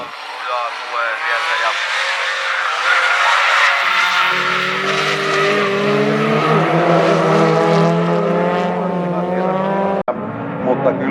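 A BMW junk car with a Volvo engine races hard, its engine roaring and rising through the gears while tires skid, loud and close, with an announcer talking over it before a sudden cut.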